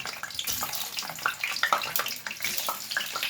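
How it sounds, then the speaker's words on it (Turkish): Capia peppers frying in a pan give off a soft, steady sizzle and crackle with scattered small pops, faint and close, with no talking. "Önce kapya biberlerimi 5 adet kızartacağım."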